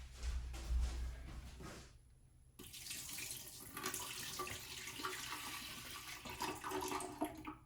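Water running and splashing steadily as it is poured into the tank of an ultrasonic mist humidifier, a brief pause after two seconds and then a fuller, continuous pour close by.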